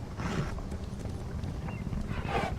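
Horse hooves clip-clop in the Elder Scrolls Online video game, a steady muffled patter of steps under a constant low ambient rumble.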